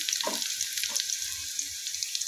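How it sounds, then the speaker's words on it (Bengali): Dried red chillies fry in hot oil in a wok, giving a steady close hiss of sizzling with a few soft stirring knocks, no one talking. "তো আর 2 সূর্যমরিচ দিলাম,"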